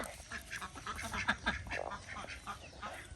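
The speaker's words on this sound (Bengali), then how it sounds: "আর এদিকে নানু হাঁস মুরগিকে খাবার দিচ্ছে" Domestic ducks quacking at a rural homestead while being fed grain alongside chickens, a busy overlapping chorus of repeated nasal calls at moderate distance, steady throughout the short stretch with no talk.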